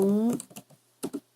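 Typing on a computer keyboard in Canva, a few light close key clicks following a short spoken phrase.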